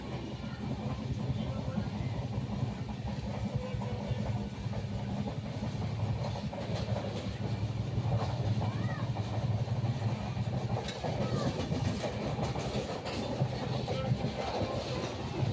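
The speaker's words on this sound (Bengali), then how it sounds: "এখন আমরা কান্ডারি এক্সপ্রেসে উঠে পড়লাম" The Kandari Express passenger train rolls along the rails on the way from Kolkata to New Digha, heard from inside a carriage as a steady, continuous low rumble and rattle with faint clatter throughout.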